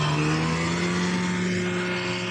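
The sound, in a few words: motorbikes passing on a road at Sonmarg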